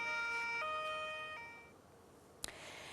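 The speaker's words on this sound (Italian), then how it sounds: "tra le sirene delle moto e delle auto dei carabinieri" Carabinieri motorcycles and cars sound their sirens as a funeral procession departs. A wailing two-tone siren rises and falls for over a second, then fades into a quiet, distant background, followed by a sharp knock near the end.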